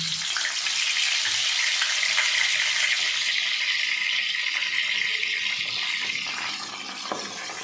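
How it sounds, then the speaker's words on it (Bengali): Marinated large prawns hit a hot wok and sizzle loudly at once, a dense hissing fry that holds steady and eases only slightly toward the end, with no talking. "কড়াইটা আমার গরম হয়ে গেছে আমি এরপর এর মধ্যে ম্যারিনেট করা মাছগুলো দিয়ে দিলাম"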